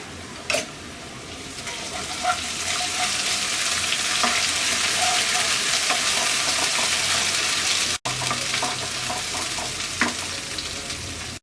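Ginger garlic paste frying with softened chopped onions in a hot wok for a hilsa-head and Malabar spinach curry, a steady loud sizzle with occasional stirring scrapes and clinks, no voices.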